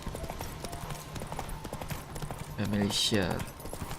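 Roach, the horse in The Witcher 3, trots along with steady clip-clopping hooves amid game sounds, and a voice speaks over part of it.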